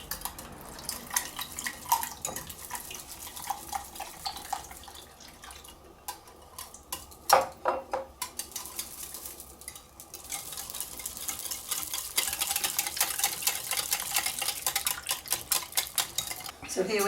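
Eggs and milk being whisked together in a bowl for quiche lorraine: quick, rhythmic clinks and scrapes of a whisk, with a louder knock partway through and a brisker, more continuous stirring toward the end.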